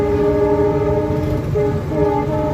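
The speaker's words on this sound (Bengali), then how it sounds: "ট্রেন যাইতেছে তো ওইটার শব্দ আসছে অনেক" A train rolls past an overbridge with a steady, loud rumble and sustained horn-like tones, continuous for the whole stretch with a brief dip midway and no voices.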